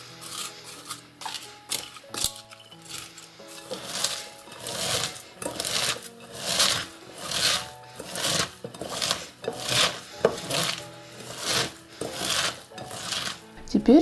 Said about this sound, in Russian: Переложите капусту в отдельную чашу, добавьте соль и разомните руками,